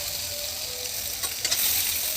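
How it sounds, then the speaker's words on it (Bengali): Panch phoron, green chilli and chopped onion hit hot oil in a pan: a steady, close, bright sizzle that swells slightly near the end, with a couple of brief stirring scrapes. "তারপর তেলের উপর দিয়ে দিলাম পাঁচফোড়ন, কাঁচা লঙ্কা, পেঁয়াজ কুচি।"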